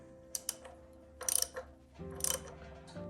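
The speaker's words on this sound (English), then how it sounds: "with a 1 3/8" socket here and a 1/2 inch drive, tighten this big nut down" A ratchet with a 1 3/8 inch socket on a 1/2 inch drive tightens the crankshaft pulley nut on a Willys L134 Go Devil jeep engine, giving two quick bursts of close metallic clicking after a few light taps.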